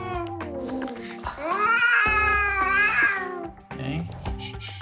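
A Persian cat meows loudly during a vet examination, giving several long, drawn-out wailing meows close up, with a brief pause before a final shorter cry.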